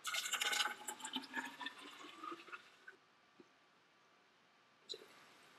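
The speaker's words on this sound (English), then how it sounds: "I'm going to put it into my big jug." Thick blended pasta pours and glugs into a big jug in a burst of liquid splashing that fades after about three seconds, leaving near quiet and then a brief clunk.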